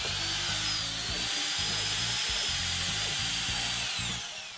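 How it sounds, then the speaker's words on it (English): A power drill bores guide holes into MDF, its motor whining in repeated bursts as the bit starts and stops, loud and close, with no talk. "we mark the edge so we know where to drill the guide holes that hold the box together"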